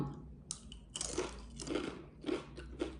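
Crunchy bites into crispy fried purple, white and orange sweet potato chips, four distinct loud crunches spaced about half a second apart, close up with no talking.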